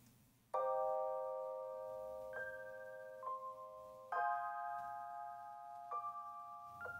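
Layered Spitfire Labs pianos pitched an octave higher and panned apart, supporting a main electric piano in a Logic Pro beat, ring out as sustained bell-like chords, several changing voicings across a few seconds, clear and alone.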